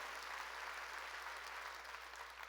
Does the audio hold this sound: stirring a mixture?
no